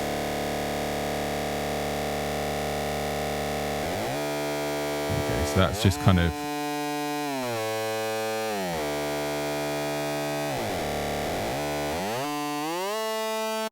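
A sustained buzzy, gritty lead synth tone from Arturia Pigments with LFO phase modulation slowly shifting its timbre, briefly interrupted by a short burst of talking in the middle.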